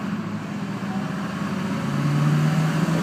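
A 2001 Duramax turbo diesel HD 2500 pickup drones steadily while driving down the road, a low continuous engine hum with road noise that swells slightly toward the end.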